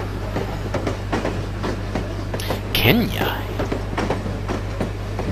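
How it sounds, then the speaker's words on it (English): A long train ride in the video game No One Lives Forever: a steady mechanical rumble runs throughout, with a brief rising whistle-like tone near the middle, while a person talks over it. "Take a long train trip."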